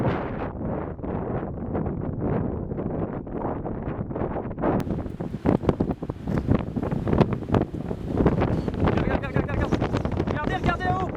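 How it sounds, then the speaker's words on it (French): Loud, buffeting wind roars continuously against the microphone in Tornado Alley, with rushing gusts blowing dust and rattling, crackly noise building toward the end. "de puissantes rafales de vent balayent la poussière autour de nous"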